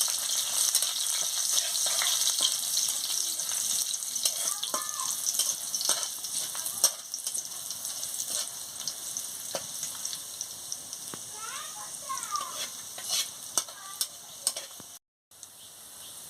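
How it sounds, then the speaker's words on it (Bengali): Garlic paste and dried red chilli fry in hot oil, a continuous crackling sizzle with frequent close spatula scrapes and stirs, briefly cutting out near the end. "রসুন বাটা দিয়ে দিচ্ছি, দিয়ে ভালো করে ভেজে নিচ্ছি।"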